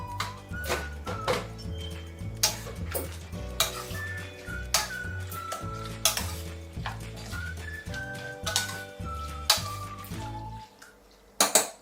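Goat intestine is sautéed in oil in a kadhai, with a spoon scraping and clinking against the pan in a steady, repeated stirring rhythm over a soft sizzle and a low, rhythmic background hum.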